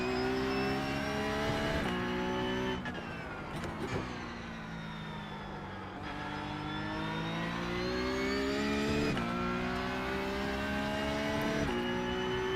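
A Porsche Cup race car in the iRacing sim drives around Imola, its engine holding a sustained high-revving note that shifts pitch through gear changes and corners, loud and close with no voices.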